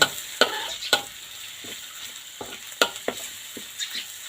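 Curry paste being stir-fried for a pumpkin and pork curry, with sharp scraping strokes of a utensil against the pan at irregular intervals over a gentle continuous sizzle.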